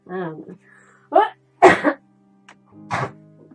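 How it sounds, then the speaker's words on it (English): A single sharp sneeze bursts out between short vocal sounds, close and loud, with brief pauses of silence around it. "had to sneeze, I'm sorry."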